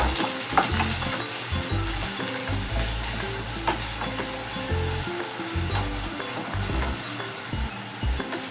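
Onion frying in hot oil, a continuous close sizzle with frequent clinks and scrapes of a spoon against the pan, no voices.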